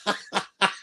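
Three quick coughs in a row, close and fairly loud, each a short rough burst with brief gaps between.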